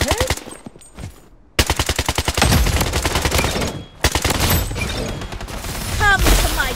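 Rapid automatic gunfire in the BloodStrike shooter game, loud close bursts of tightly spaced shots with a brief pause, then long sustained fire and reloading clatter.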